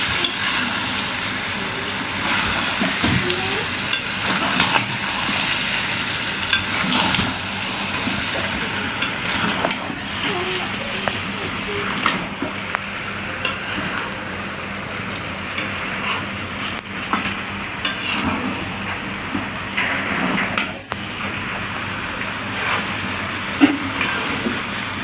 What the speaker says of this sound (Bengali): ঢাকনাটাকে তুলে নিয়েছি, আবার একটু নাড়াচাড়া দিয়ে দিচ্ছি।